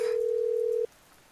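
A telephone ringback tone sounds while a call is being placed: a single steady tone that holds for under a second and then cuts off, leaving quiet.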